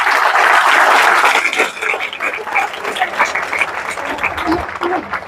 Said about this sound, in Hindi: एक बार ताली बजाइए साहब।